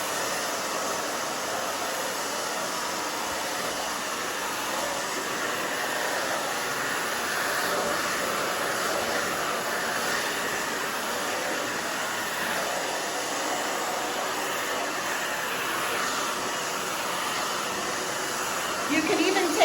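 A hair dryer blows steadily and close while hair is dried section by section before curling, producing a continuous loud airy whoosh with a faint high whine throughout.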